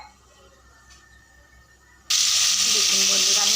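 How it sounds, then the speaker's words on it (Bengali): Pointed gourd drops into hot white oil in a wok and a loud, steady sizzle bursts in after a quiet start, holding strong to the end. "এবারে কড়াইটা জেলে দিই, কড়াইয়ের মধ্যে দিয়ে দিই সাদা তেল। পটলগুলো ভেজে নিতে হবে।"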